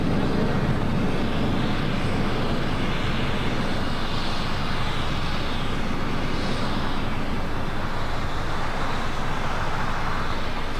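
A Qantas jet taxiing and turning onto a taxiway at LAX, its engines giving a steady, fairly distant broadband roar mixed with airport background noise, with no talk.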